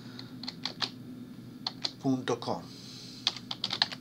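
A URL is entered on a computer keyboard while a link is edited in a Chamilo LMS wiki. Close, crisp keystrokes come in quick irregular bursts, with a brief stretch of speech in the middle.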